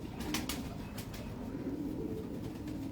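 Pigeons in a loft of bred show birds, giving soft low cooing over a steady murmur, with a few brief wing flutters or sharp rustles near the start and middle.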